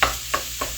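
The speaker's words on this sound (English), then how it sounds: "stirring the sausage really quickly" Sausage stirred in a pan for a breakfast casserole, three quick scraping strokes over a soft continuous sizzle.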